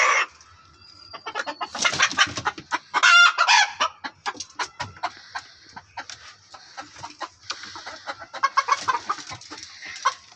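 Chickens on an agro farm clucking and a rooster crowing, busy overlapping calls close by with bursts of louder squawks throughout, no talking.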